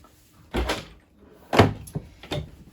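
Kitchen drawers in a 2020 Grand Design Reflection 315RLTS travel trailer slide and thump shut, with three distinct close knocks spaced about a second apart in a quiet interior.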